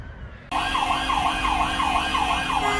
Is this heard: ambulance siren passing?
yes